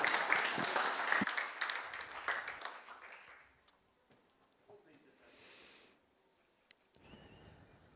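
Applause from an audience at a formal Turkish industry association report launch, fairly loud at first and fading out within about four seconds, followed by quieter room noise and a brief voice.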